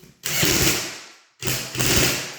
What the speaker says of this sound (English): now I'm going to tighten all my bracket screws